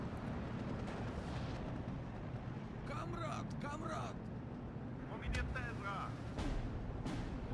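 Artillery fire in the video game Steel Division 2 during a 10v10 battle for Smolyany, continuous heavy rumbling booms and blasts forming a dense, loud barrage with sharper crackles mixed in, while a voice talks over it.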